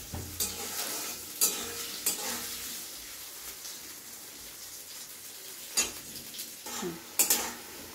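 Parboiled potatoes frying in a pan for ghugni with peas and paneer give a steady soft sizzle, punctuated by sharp metal spatula scrapes and clinks against the pan at irregular intervals, close and fairly quiet.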